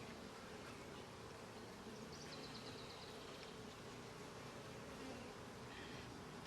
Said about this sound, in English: there is a ton of bees in here still